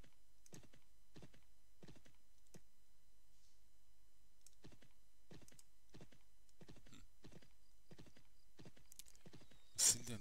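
Horse hooves clip-clop in a steady, spaced rhythm while riding in the video game Champions of Regnum, quiet and alone with no talking, ending in a brief bright blip.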